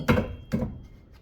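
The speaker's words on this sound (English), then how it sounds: "Give it a couple love taps in the back here." A hammer taps the back of a brake rotor on a Chevy Equinox or Traverse, giving two dull close thuds about half a second apart with a short ring after each.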